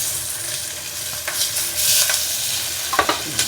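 Onion and garlic hit hot oil with curry leaves and dried chillies in a pan, giving a loud, steady sizzle with several stirring scrapes and rustles rising above it.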